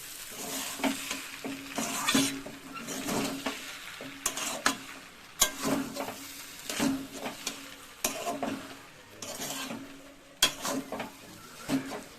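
Spiced potato filling for masala dosa stirred in a pan, with a soft sizzle under repeated bursts of scraping and knocking from the spoon, close and uneven in rhythm, no talk.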